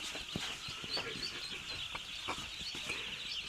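A large brood of ducklings, several hundred to a pen on a duck farm, peeping in a dense, continuous high-pitched chorus. Occasional louder individual cheeps stand out at close range.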